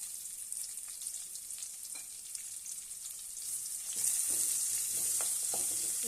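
Chopped onion with mustard seeds sizzles steadily in oil in a pan for Rayalaseema-style uggani, a bright continuous hiss that swells louder partway through, with occasional scrapes and clinks of stirring close by.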